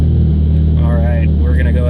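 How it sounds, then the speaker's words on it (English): A tuned turbocharged car engine is held at high revs near its rev limit, giving a loud, sustained, buzzing drone with wavering pitch throughout. "give it another rip here. Looks like the rev limit was too low."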